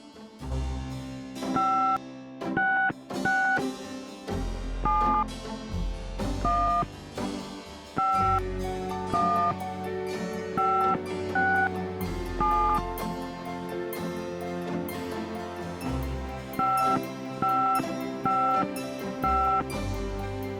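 Touch-tone dialing beeps from a phone in the Gabriel Knight: Sins of the Fathers video game, paired tones in short clusters with pauses between them, heard over a sustained low musical drone, loud and close.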